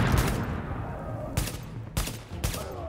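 Bursts of gunfire from the video game Tom Clancy's The Division, with sustained automatic fire followed by several sharp, loud volleys separated by brief gaps.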